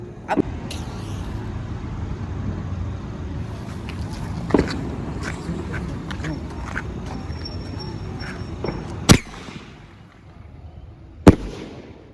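Fireworks shots burst with a few sharp, loud bangs spaced several seconds apart over a steady rumbling background, during Makar Sankranti (Uttarayan) celebrations.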